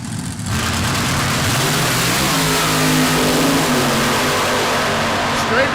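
Funny cars launch side by side down the drag strip at Cordova Dragway during Friday night qualifying at the Summer Nationals, a loud, sustained engine roar that swells mid-run as an announcer talks over it.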